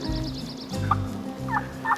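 A wild turkey gobbles during a spring hunt, two or three quick rattling calls at moderate distance over low background rumble, with no talking.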